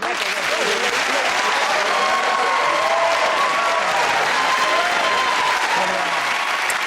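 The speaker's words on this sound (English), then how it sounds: "cheers and applause to our winners, jeers and derision to our losers" Studio audience of a comedy panel show clapping and cheering loudly and continuously, a dense, even roar of applause with voices rising through it.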